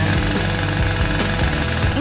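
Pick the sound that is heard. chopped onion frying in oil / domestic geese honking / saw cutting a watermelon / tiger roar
saw cutting a watermelon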